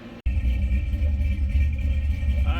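A 1984 Chevrolet K10 pickup with an LS engine swap and a freshly welded exhaust, still untuned, rumbles steadily at idle, loud and close, after a brief cutout at the start.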